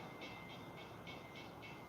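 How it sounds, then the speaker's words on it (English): A freight train rolls past at night in the distance, a faint steady rumble with soft rhythmic clacking pulses repeating about every quarter second. "We got the freight train actually coming early tonight."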